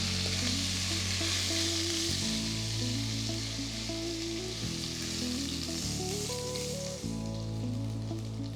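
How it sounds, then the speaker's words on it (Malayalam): Chicken pieces fry in hot oil in a pot for a roast, a steady close sizzle running without pause under a layer of tonal background music, with no talking. "ഇതേപോലെ ബാക്കിയുള്ള ചിക്കൻ പീസസും ഫ്രൈ ചെയ്തെടുക്കാം."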